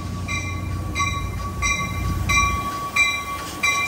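Amtrak Capital Corridor passenger train pulling into the Oakland Coliseum station, close and loud, with a rumbling low roar, clanking wheels and sharp repeated high-pitched squeals from the rails.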